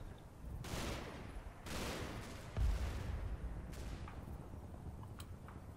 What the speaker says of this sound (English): Sounded like they were shooting over here then.